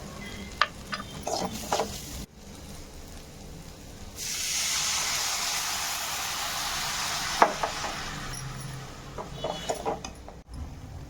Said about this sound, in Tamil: உடைத்து வச்ச முட்டையை ஊற்றி இப்படி ஒரு பெரட்டு அப்படி ஒரு பெரட்டுன்னு பெரட்டி எடுத்தா ஒரு சூப்பரான முட்டை பொரியலுங்க